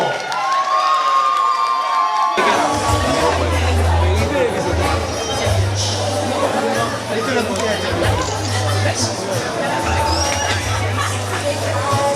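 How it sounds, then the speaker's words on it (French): Pageant audience at the Miss Ronde Martinique 2014 election erupting into loud cheers, shouts and clapping for all the candidates, a sustained roar with a low musical hum underneath after a brief lull at the start. "Des applaudissements pour toutes les candidates qui ont participé à cette élection."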